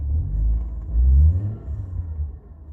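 A Toyota JZX110 engine rumbles at close range. It rises through a couple of rev swells, with a loose cable-like rattle somewhere in the bay, and no voices.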